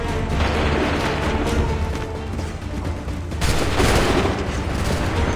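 A volley of massed musket-style gunfire from Assassin's Creed III booms out in loud, overlapping bursts, swelling into a renewed crash of shots partway through.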